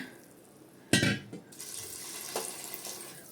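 Water poured from a glass into a pot of rice for plain pulao, a brief splashing gush followed by softer trickling and a light clink, close and fairly quiet, with no talk.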